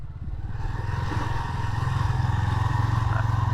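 1985 Honda FT 500 Ascot single-cylinder motorcycle on the move, a steady, close thumping engine beat that grows firmer and more pulsing toward the end, with no talk.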